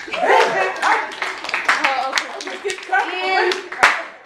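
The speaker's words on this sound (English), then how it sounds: "Round of applause." Hand clapping from a small group in a community gathering, a short round of applause with sharp individual claps, voices and chatter mixed in underneath.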